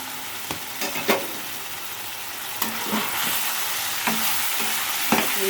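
Onions and drumsticks fry in a pan with a continuous close sizzle, broken by a few soft stirring knocks and scrapes at irregular intervals; no voices.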